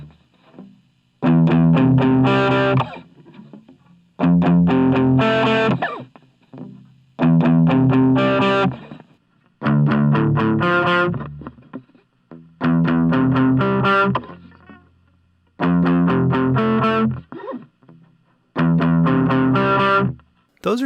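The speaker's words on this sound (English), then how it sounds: "Now for the electric guitar, I've put the amp in a closet." Distorted electric guitar played through an amplifier shut in a closet, recorded with a Blue Snowball or Yeti microphone, heard alone in seven loud bursts of chords separated by short gaps.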